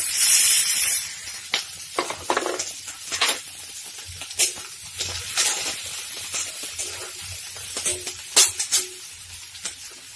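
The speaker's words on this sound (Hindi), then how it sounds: "जब तेल गर्म हो जाए तब हम उसमें कटी हुई मिर्ची डालेंगे और कटा हुआ प्याज डालेंगे" Chopped chilies and onion crackle in hot oil, an initial loud hiss that fades into intermittent pops and sizzles, with stirring and clinks scattered through the quieter stretch.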